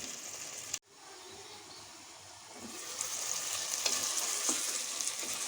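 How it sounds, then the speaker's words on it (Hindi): Chicken, potatoes and vegetables frying together in a pan, giving a continuous hissing sizzle that builds slightly louder after a short cut, with a few faint utensil taps, close and without talk. "तमाम चीज़ें जो हैं वो अच्छी सी फ्राई हो रही हैं।"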